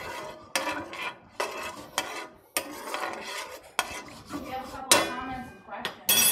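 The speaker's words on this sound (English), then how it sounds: "Just a quick stir." Pasta sauce with sage gets a quick stir in a pan, with a series of short scraping, clinking strokes of a utensil against the pan in a steady rhythm, close up.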